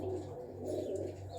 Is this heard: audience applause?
no